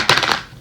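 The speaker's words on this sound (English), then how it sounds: "One more shuffle, please." A deck of angel cards is shuffled in a quick, close riffling burst that rustles briefly and fades out in under a second.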